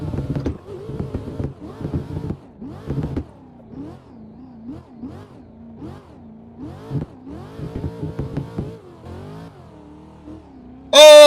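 Racing sim game car engine heard through a PXN V10 wheel setup, revving up and down in repeated rising and falling pulls at moderate level, with a loud burst of noise at the very end.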